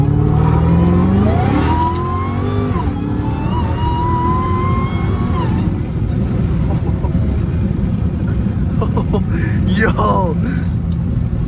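Dodge Challenger Hellcat Redeye accelerating on a canyon road, its engine roaring in steady rising pulls close to the cabin, with people talking and exclaiming inside the car over it.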